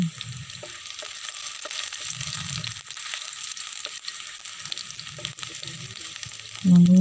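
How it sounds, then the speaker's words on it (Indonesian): Shallots frying in hot oil for a water spinach stir-fry crackle with a steady, close sizzle, with a few soft low bumps and a louder burst near the end. "Kita biarkan sampai bawangnya ini berwarna"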